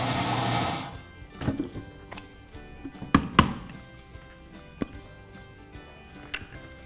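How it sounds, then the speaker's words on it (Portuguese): A blender grinds cashew nuts and flaxseed into flour in a brief, loud whirring burst that cuts off after about a second. Scattered knocks and clunks follow in a quiet kitchen. "vou transformar isso numa farinha com a ajuda do liquidificador"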